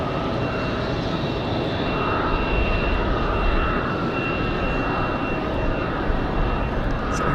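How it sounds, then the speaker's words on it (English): A JetBlue jet airliner from JFK arrives at Raleigh-Durham airport on a windy day, its engines producing a steady, loud, broad roar throughout with no talking. "So here comes our JetBlue from JFK."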